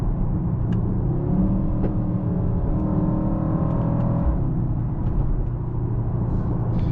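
A 2025 Mercedes-AMG GLE 63 S Coupe with its 603 hp V8 in Sport Plus mode drones steadily from inside the cabin, a continuous low engine rumble with a slight rising pitch and road noise, no voices.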